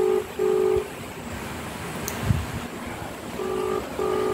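A phone's ringback tone repeats twice, steady tonal pulses with a long quiet gap between, no one answering; faint background noise throughout.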